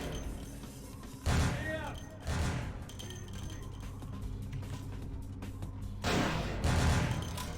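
Heavy, powerful gunshots in Vampire: The Masquerade - Bloodlines, four loud booming blasts spaced a second or more apart, each with a mechanical rattle, over low game ambience with faint talk in between.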